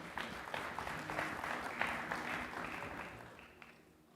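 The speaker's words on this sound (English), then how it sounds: "A round of applause for our chair." An audience at an international film and TV market festival applauds the board chair, a dense wash of clapping that holds steady and then slowly fades away.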